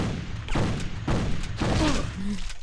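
Gunfire in Jurassic: The Hunted, three loud booming shots spaced about half a second apart, close and heavy, over a dense game background.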